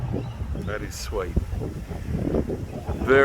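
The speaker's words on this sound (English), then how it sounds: "Sorry about the wind, but a bit of a windy day." Gusty wind buffeting the microphone outdoors on a windy day beside a parked 1973 XA GT Falcon, a low rumbling roar under a man's speech throughout.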